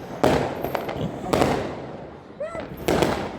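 A Diwali party bomb firecracker goes off outdoors in several loud bangs and crackling bursts, with a short whistling fizz between them.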